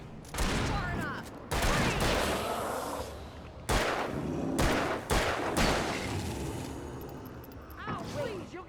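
Gunfire in the Alan Wake video game comes in repeated loud bursts, with sharp reports and rattling volleys separated by brief gaps, up close and forceful over a tense, noisy background.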